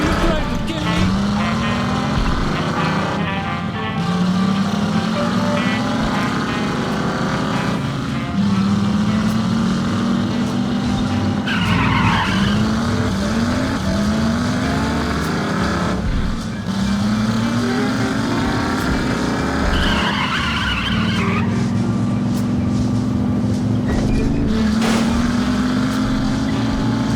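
A car in The Saboteur video game revs repeatedly as it drives, engine pitch climbing and dropping in cycles with occasional screeching bursts, loud and continuous over game noise.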